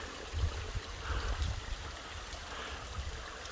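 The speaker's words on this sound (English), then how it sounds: "Enormous rock face up above us, a bit more open than Verde, but just some slight trickles of water." Slight trickles of water run down an enormous rock face in a Madeira ravine near Caldeirão Verde, a soft, steady outdoor wash with faint low rumbles and no voices.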